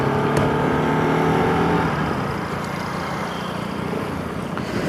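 Pulsar RS 200 BS4 motorcycle accelerating in first gear during a top speed test, a loud, close engine drone that climbs, then levels as it holds steady.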